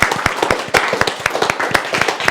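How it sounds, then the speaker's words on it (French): Students and audience at a French middle school event give Margot a short burst of lively applause, individual claps distinct and rhythmic, close and fairly loud, with a brief murmur of voices beneath. "Bravo, on applaudit"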